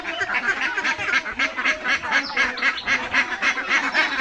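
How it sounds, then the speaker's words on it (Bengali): Continuous chorus of ducks quacking close by, many birds overlapping in a busy, steady clamor with no pauses. "এই জায়গায় হচ্ছে হাঁসগুলা এনে রাখলাম"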